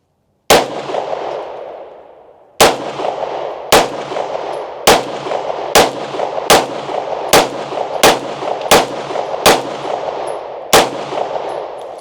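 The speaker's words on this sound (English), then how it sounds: "we're popping off rounds pretty quick" A Beretta pistol fires about a dozen loud, close shots at a quick, fairly steady pace, each crack ringing briefly before the next.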